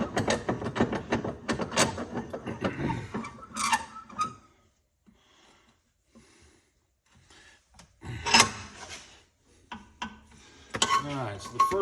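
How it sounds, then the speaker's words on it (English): A hand tubing bender works a new piece of tubing for a 1973 Dodge Charger, giving close bursts of creaking, scraping and ratcheting clicks, broken by a quiet pause before another round of grinding strain. "I have a new piece of tubing here and my trusty tubing bender."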